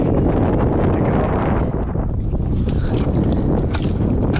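Steady wind roars across the mic on a South Carolina island shore near mud and water, a constant loud broadband rush with gusty buffeting and no speech.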